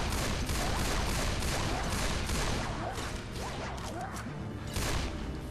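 Dense, continuous gunfire from several weapons in the Left 4 Dead 2 video game, loud and close, with overlapping rapid shots and bursts throughout.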